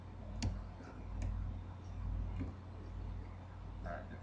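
Scattered keystrokes tap on a computer keyboard while text is typed in Adobe Photoshop CS5, soft irregular clicks over a low steady room hum with no talking.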